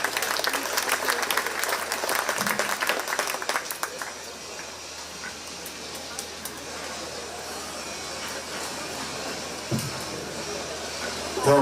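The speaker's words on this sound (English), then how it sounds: "Give them a round of applause." Crowd applause at a county fair 4-H swine show, dense clapping loudest at first then settling into steady, slightly thinner clapping across the whole stretch, with a reverberant indoor show-barn feel.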